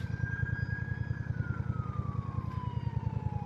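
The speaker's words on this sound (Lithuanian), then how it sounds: "Ten greitoji parvažiavo su migralkėm" An ambulance siren wails past with flashing lights near Darbėnai and Kūlupėnai, Lithuania, its tone sliding downward as it moves away, heard from inside a moving car on a country road, over a steady, rhythmic engine hum.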